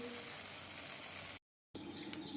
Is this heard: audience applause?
no